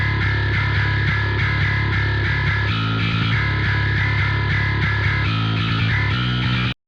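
Heavily distorted, saturated music processed through the Black Salt Audio Oxygen plugin in bite mode, dense and loud throughout with a steady low bass and bright upper harmonics, stopping abruptly at the end.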